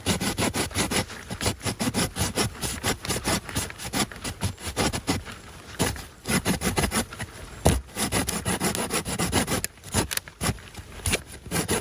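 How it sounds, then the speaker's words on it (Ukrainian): A hand saw rasps through a thick hazel branch in fast, continuous back-and-forth strokes, loud and close, with brief pauses between bursts. "Ну і попробую зараз пилку. Ну що, давайте ріжемо."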